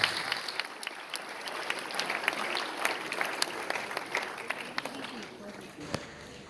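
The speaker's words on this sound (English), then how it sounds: "Another round of applause, ladies and gentlemen, for the one and only Jerome De Silva." Audience applause at a school cricket awards ceremony, a fairly faint, continuous patter of many hands clapping at moderate distance, with scattered sharper claps and some crowd noise underneath.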